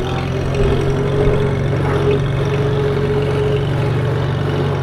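Tractor engine revving through a sports exhaust as it drives through a gap, a steady loud low rumble with a mild rise in revs, no talking.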